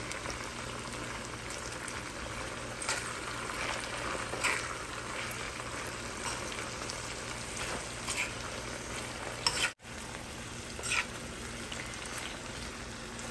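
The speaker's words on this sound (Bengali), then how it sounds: "এবার হচ্ছে সব একসাথে একটু মিক্স করে নেব।" Spices, including ground chili, sizzle and fry in a pan as they are stirred together for a Bangladeshi kajoli fish dish, with a steady crackling hiss and occasional scraping stirs.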